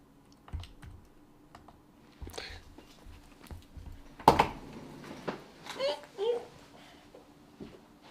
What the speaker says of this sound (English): I'm definitely typing the right thing.